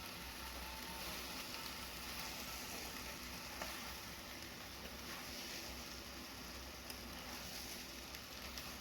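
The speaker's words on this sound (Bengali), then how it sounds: "এবারে সব কিছু খুব ভালো করে কষে নেব।" Boiled peas sauté in a wok of spiced mutton-fat masala, giving a loud, steady, dense sizzle and crackle that fills the whole stretch, with faint stirring scrapes underneath and no voices.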